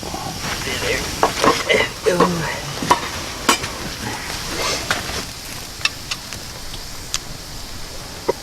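Burgers sizzle and pop on a hot surface in a winter camping tent, with soft crackling and scattered sharp spatters under occasional talk.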